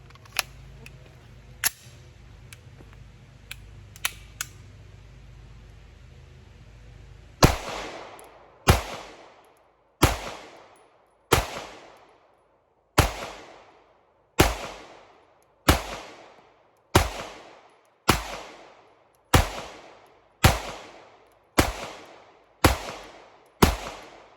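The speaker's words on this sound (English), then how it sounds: "put 10 rounds through the plate just to see how many we can put on target from 40 yards" An HK USP 9mm pistol fires round after round at a steel plate from 40 yards: about a dozen sharp, loud shots in a steady, evenly spaced rhythm, each ringing out briefly, after some quiet handling clicks.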